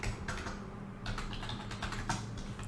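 Fingers tap on a computer keyboard in a steady patter of keystrokes, with a brief pause partway through and then a quicker run of clicks, close and even in volume.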